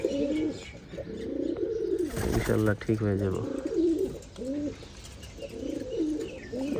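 Pigeons with watery eyes coo in repeated low, throaty phrases close by, with a burst of wing flutter midway, while someone talks briefly over them.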